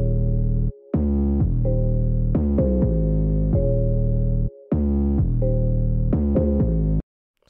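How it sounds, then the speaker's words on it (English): Untuned 808 bass played from an Ableton Live sampler, a loud booming pattern of sustained notes with brief gaps, slightly out of key, with no other sounds. "I'm going to play the example of how it sounds not tuned"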